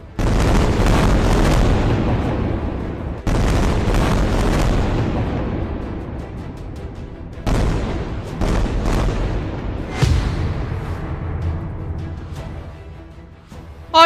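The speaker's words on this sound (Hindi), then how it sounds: "उत्तरी गाजा से दक्षिणी गाजा तक सिर्फ और सिर्फ बम की आवाज सुनाई देने लगी" Bombs explode during Israeli airstrikes across Gaza in a series of four heavy blasts, each a sudden loud boom that rumbles and slowly decays before the next.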